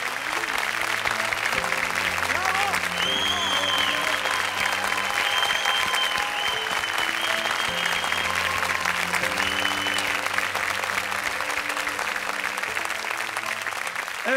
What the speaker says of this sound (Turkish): Büyük alkışlarla İlke Yıldız'ı uğurluyoruz.